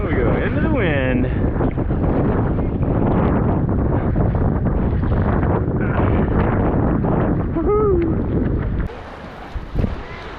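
Strong wind buffets the microphone while stand-up paddleboarding off the North Shore at Three Tables, Sharks Cove and Waimea Bay, a loud continuous roar with water sounds and brief talking, easing slightly near the end.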